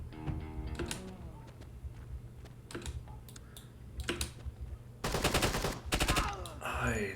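Machine gun firing 5.56 rounds in the tactical shooter game Door Kickers 2, heard as a dense rapid burst of shots between quieter clicking stretches, with no talking.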